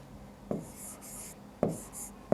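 Marker or chalk writing on a board in a classroom maths lesson, heard as a few short scratchy strokes with quiet gaps between them, close and fairly soft, with no speech over it.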